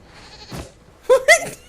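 Goat bleating in the Dragon Age Inquisition video game: a faint short call, then two loud wavering bleats in quick succession near the end.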